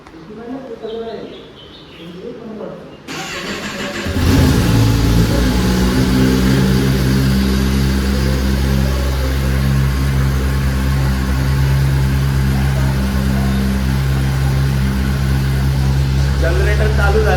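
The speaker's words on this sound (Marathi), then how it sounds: "आता टेनरला आपण कोल्ड स्टार्ट करूया" A brand-new Kawasaki ZX-10R superbike with zero kilometres cold-starts after quiet chatter and birdsong, then settles into a loud, steady, rumbling high idle that holds to the end.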